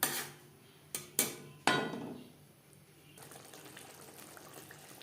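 Spice-rinsing water poured into a spicy Bhola fish curry in a pan. Sharp pouring splashes hit near the start, then a steady, soft bubbling simmer continues.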